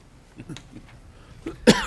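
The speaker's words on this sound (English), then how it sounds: "I'm having a little bit of a coughing fit as of late today." A single sharp cough bursts out near the end, preceded by a few soft throaty sounds and breaths, close and fairly loud.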